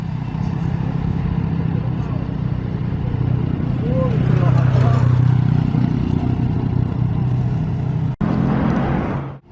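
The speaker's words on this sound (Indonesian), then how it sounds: "masuk lagi unit NPM ya yang masih datang dari arah Padang Pariaman ke dalam terminal Padang Panjang" Bus of the NPM line arriving into Padang Panjang bus terminal, a loud diesel engine rumble rising as it pulls in, with rattling and clatter and someone talking over it.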